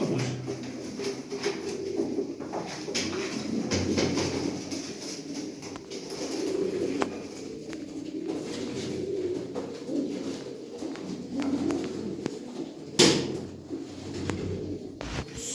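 Pigeons coo steadily and close by, low throaty calls overlapping throughout, with a few soft knocks and one sharp clatter near the end.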